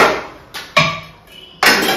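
A worn metal pan, a flat tawa griddle, is handled and set down: three sharp metallic clanks at uneven intervals, close and fairly loud, each ringing briefly before fading, with no talking.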